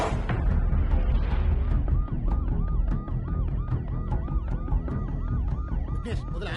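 A wailing ambulance siren with a rapid rising-and-falling pitch sweeps repeatedly over loud, dense background rumble, sounding close and continuous throughout.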